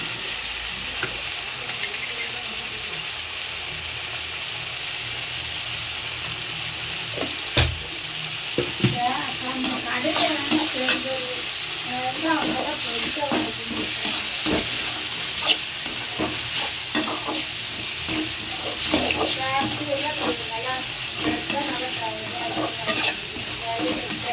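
Tomatoes sauté in a pan with a bright, steady sizzle, joined partway through by repeated stirring and clinking strokes of a utensil, close and continuous throughout.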